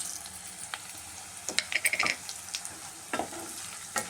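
Dried red chillies and cumin seeds fry in hot oil, giving a soft, low sizzle dotted with small crackles and light stirring clicks, with no one talking.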